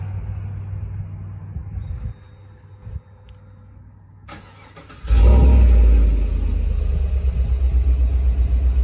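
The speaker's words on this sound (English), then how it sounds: "I'll start up the factory exhaust for you guys here" A 2014 Chevrolet Silverado cold-starts on its factory exhaust after a quiet idle: the starter cranks, then the engine catches with a loud surge and settles into a steady rumbling idle.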